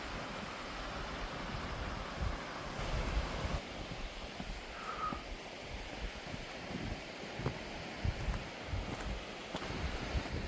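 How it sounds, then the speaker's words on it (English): A waterfall on Ben Nevis roars as a steady, broadband rush of falling water, loud and continuous throughout, with wind buffeting the open mountainside. "And this waterfall is amazing."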